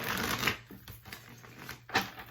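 A deck of tarot cards is shuffled by hand, giving close, papery riffling bursts with a strong flutter near the start and another near the end.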